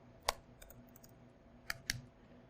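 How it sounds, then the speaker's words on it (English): A few scattered computer keyboard keystrokes tap out, one sharp click followed by a quiet pause and then a quick pair near the end, close and fairly soft. "A lot of typing."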